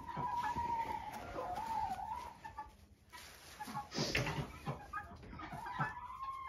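Backyard chickens cluck and murmur close by, with a few sharper calls and scratching between them, moderately loud, with no speech.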